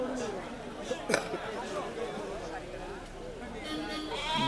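Sheep bleat amid a busy crowd at an outdoor livestock market selling sheep and goats, with overlapping chatter and several short bleats rising above the babble at close to moderate distance.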